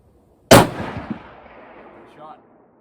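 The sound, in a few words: rifle shot, Browning A-Bolt Mountain TI 300 WSM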